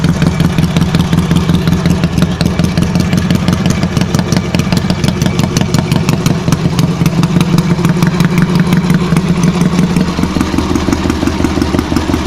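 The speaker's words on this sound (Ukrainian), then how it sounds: "після мойки прогріваю" A Dnepr 10-36 bobber motorcycle engine idles steadily at close range while warming up, a loud, even rhythmic putter running throughout.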